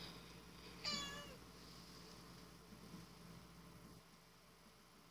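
A single house cat meows once, fairly near and clear, over a quiet background hum, with the rest of the moment mostly still.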